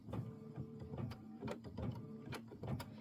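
An embroidery machine stitching a Christmas house gift box project, a faint, rapid mechanical chatter with regular needle strikes in a quick repeating rhythm, with no voices.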